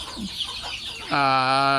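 Chickens on a Thai village farm raising free-range poultry, with soft scattered clucks at first followed by a louder, drawn-out call up close, no talk.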